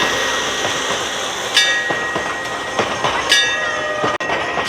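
A miniature ride train rolls past at Legoland Windsor with a rumbling, rattling clatter and a steady background roar. Sharp high squeals or whistle tones cut in briefly a couple of times as the train moves by.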